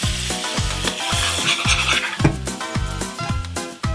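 Beef mince burger patties frying in their own juices, a steady close sizzle broken by regular scraping and tapping of a spatula against the pan, with no talk.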